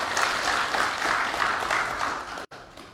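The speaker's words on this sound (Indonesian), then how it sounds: "tepuk tangan dulu" Attendees applaud at an Indonesian parliamentary commission public hearing, a full, sustained burst of clapping that continues evenly before briefly cutting out and resuming more softly near the end.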